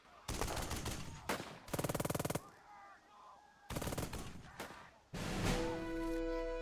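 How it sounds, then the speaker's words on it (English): Gunfire rings out during an assault in the video game Burden of Command, with loud rattling machine-gun bursts and single shots broken by short pauses, close and sharp. "The assault goes in. Gunfire."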